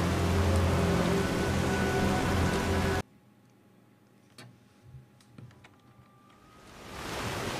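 Rain pours in the Skyrim-based game Enderal, loud and hissing for about three seconds before dropping to faint scattered drips and ticks, then swelling again toward the end.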